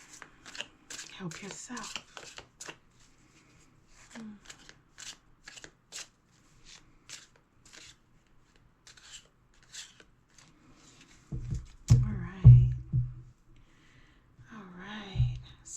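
Tarot cards are shuffled: quick, papery riffling and soft card snaps repeat through the first seconds, close and fairly quiet, with a voice speaking briefly and some handling noise near the end.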